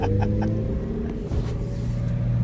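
A 1981 Dodge Challenger does a burnout, its engine holding a steady loud rumble close by with rough tire and exhaust noise throughout.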